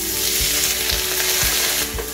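Onion frying in a pan for a salt cod and potato stew makes a loud, dense, continuous sizzle. Dull stirring knocks recur about every half second.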